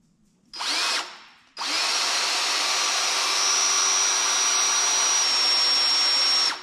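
A power drill whirs briefly, stops, then runs steadily for several seconds at close range drilling a wrecker frame, a loud high-pitched motor whine.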